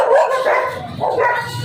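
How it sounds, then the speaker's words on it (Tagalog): A dog barks and yips while chasing a street vendor along a dark highway in Caloocan, with a few close, loud, agitated barks in quick succession and no talking. "Hinahabol ako ng aso."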